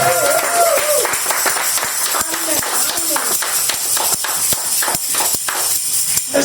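A church congregation at a worship service claps along, rapid, even hand claps repeating steadily under a sustained backdrop of music and voices.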